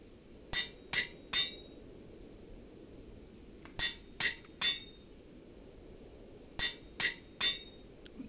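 An anvil is used in the Minecraft-based game RLCraft, ringing out in three bursts of three sharp metallic clinks each, crisp and close against a quiet background.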